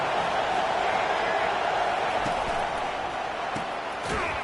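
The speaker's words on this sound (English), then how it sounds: "This crowd bringing the energy and noise early." A college football stadium crowd roars in a steady, dense wash of noise that holds at full loudness, with a few faint thuds and sharp accents poking through.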